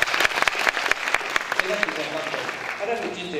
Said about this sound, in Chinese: 你讲热烈个掌声。